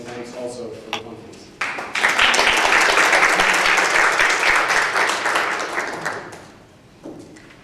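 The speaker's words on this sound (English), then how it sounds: "I ask for a big round of applause and thanks also for the conference." Conference audience applauding after a panel talk, a dense burst of clapping that swells suddenly, holds steady for several seconds, then fades out, with a brief voice before it starts.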